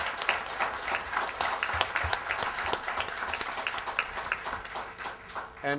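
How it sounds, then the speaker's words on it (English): Conference attendees give presenters a sustained round of applause, with many hands clapping in a dense, rhythmic patter that holds steady and then tapers slightly near the end. "I think we all owe our presenters a round of applause for the work that they've done."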